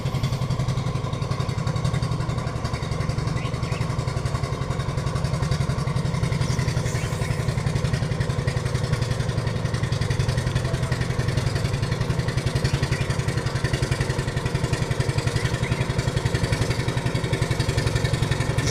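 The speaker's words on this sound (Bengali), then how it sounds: "দ্রুত একটা ট্রলার দ্রুত চলে আসছে সামনের দিক দিয়ে" A trawler boat engine on the Ichamati river chugs in a steady, loud drone with a deep low rumble and faint clatter, holding constant for the whole stretch with no talk.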